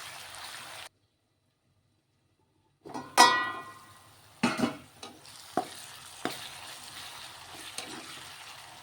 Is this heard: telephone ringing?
no